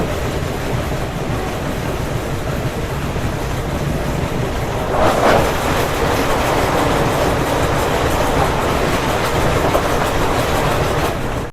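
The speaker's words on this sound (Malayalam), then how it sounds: "ഇപ്പോൾ ഒരു വണ്ടി വരും, കൊച്ചുവേളി ലോകമാനത്തിലായി ഗരീബ് രഥ്." The Kochuveli Garib Rath express train rumbles past loudly and steadily from close by, a continuous roar of wheels and carriages on the rails with a rushing swell partway through.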